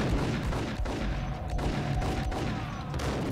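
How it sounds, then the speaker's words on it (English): Dense, continuous gunfire in the video game Max Payne during a bank robbery level, a steady loud barrage of shots and booming impacts with no talking. "We are succumbing to bullets"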